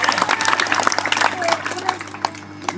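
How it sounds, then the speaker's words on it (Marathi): An audience at a stage magic show claps for a young volunteer, scattered uneven applause that mixes with someone talking over it and a low electrical hum. "दिव्यासाठी सगळ्यात अगोदर जोरात टाळ्या व्हायला पाहिजे"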